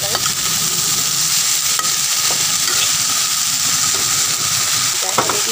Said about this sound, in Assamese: আলু আৰু এইফালে পচলা চব্জিখিনি ইয়াত মই একেলগতে দি দিম